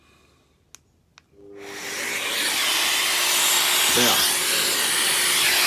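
A Festool dust extractor powers up after two sharp clicks, its broad rushing whoosh swelling in and then holding steady and loud close by, with a brief spoken word partway through.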